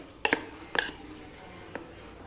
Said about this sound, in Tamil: இது நல்லா கிண்டி விட்டுக்கலாம்